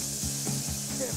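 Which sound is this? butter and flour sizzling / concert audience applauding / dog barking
butter and flour sizzling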